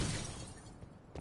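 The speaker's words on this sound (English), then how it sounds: "What, just smash glass?" Window glass shattering in Call of Duty Cold War Outbreak, a burst of crashing breakage at the start that decays into scattered tinkling, with a small extra crack near the end.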